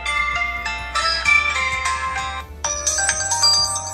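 Ringtone from an LG G7 ThinQ smartphone: a bright melodic chime that plays in loud phrases with brief pauses, heard clearly on its own.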